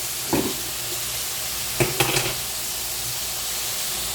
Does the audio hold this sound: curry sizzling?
yes